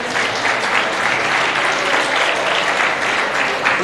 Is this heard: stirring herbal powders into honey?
no